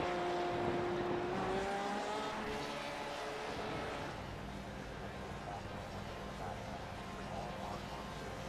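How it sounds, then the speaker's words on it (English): A Porsche race car trundles slowly across the start-finish line in a W12 Sprint Series race, a steady engine drone with a falling whine under constant crowd and track noise, while commentary continues over it. "that's a sad Porsche trundling across the start-finish line"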